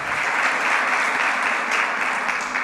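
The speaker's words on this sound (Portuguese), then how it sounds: "Vamos aplaudir Jesus pela vida deles" Congregation in a church applauding, a steady, fairly soft wash of many hands clapping that holds evenly from start to finish without pause.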